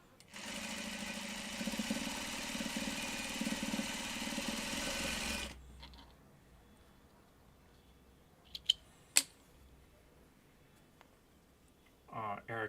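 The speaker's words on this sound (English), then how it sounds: "Let's get sewing." A sewing machine runs steadily and fairly loud for about five seconds, then stops, leaving a quiet room with a few sharp clicks and faint background noise.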